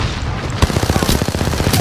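Rapid burst of video game gunfire during an online shooter match, a series of sharp repeated shots in quick rhythm after one louder opening bang, loud and close.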